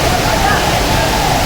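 Rushing water at Deojhar waterfall, a loud dense roar that fills the whole moment without letup.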